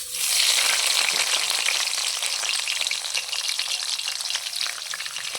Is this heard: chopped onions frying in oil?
yes